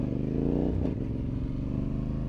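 A Honda Africa Twin motorcycle runs in second gear without the clutch, its engine droning loud and close with a brief surge and scrape partway through.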